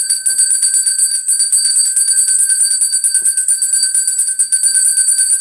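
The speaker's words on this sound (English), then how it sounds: "Let's ring the bell, guys." A bell rings steadily throughout, sustained bright high tones with shimmering overtones at a constant loud level and no talk over it.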